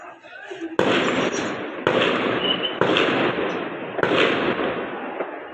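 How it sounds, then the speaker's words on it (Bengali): Rounds of gunfire during a police operation, four or five sharp loud reports spaced about a second apart, each followed by a lingering noisy tail, with faint background voices between the shots. "রাউন্ডে রাউন্ডে গুলি চলছে।"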